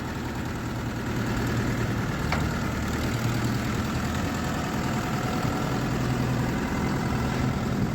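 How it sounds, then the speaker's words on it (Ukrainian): A new Lovol 504 tractor's diesel engine idling steadily, a loud, close, even low rumble with constant knocking texture throughout, no voices. "Гарно робить тракторець, новенький, тільки приїхав."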